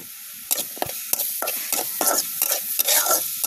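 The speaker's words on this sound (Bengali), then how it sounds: "পেঁয়াজগুলোকে আমি বাদামি কালার করে ভেজে নিব।" Onions fry in oil in a kadai until browned, close sizzling punctuated by frequent sharp scraping strokes of a spatula stirring the pan.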